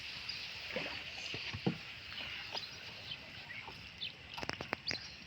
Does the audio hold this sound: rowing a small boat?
yes